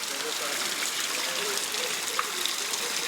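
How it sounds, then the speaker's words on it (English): A waterfall in Dumfries, Scotland rushes in a steady, broad wash of falling water, close and continuous throughout. "Nicer waterfall to calm you down after that."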